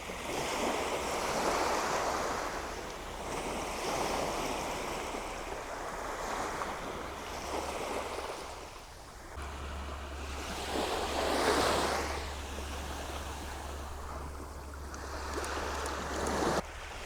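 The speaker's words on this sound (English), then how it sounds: "Obviously we've got very, very tiny waves coming in" Very tiny ocean waves wash gently onto a sandy beach in the early morning, making a soft continuous surf wash with some wind buffeting the microphone.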